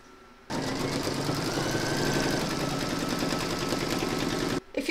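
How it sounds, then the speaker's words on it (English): An embroidery machine stitches a round of an in-the-hoop poinsettia bunting design, a steady, loud mechanical whirring and rapid needle chatter running continuously for about four seconds before stopping abruptly. "Pop your hoop back into your machine and stitch round number 3 to secure it."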